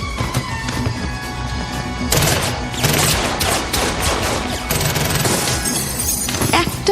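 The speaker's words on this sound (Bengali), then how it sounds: "অনেকগুলো গুলির শব্দে কান ফেটে যাওয়ার অবস্থা" Gunfire sound effect for a ghost story set at a bungalow: loud, rapid volleys of many shots in dense bursts with sharp, crashing edges that grow heavier after the first couple of seconds.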